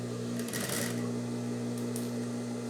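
Sewing machine stitching a handmade handbag, a steady close mechanical whir with a low hum throughout, a brief faster burst of needle clatter near the start, no talk.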